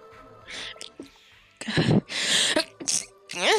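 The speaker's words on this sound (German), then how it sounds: "Entschuldigung, weil ich niesen musste." A single sneeze bursts out amid a voice and background music from a dress-up game, preceded by a short intake of breath.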